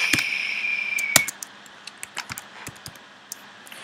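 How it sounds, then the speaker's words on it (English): Typing personal details on a computer keyboard: sparse, light key clicks, close by and quiet, coming in an irregular rhythm after one sharper tap. "this is where you type in your details here"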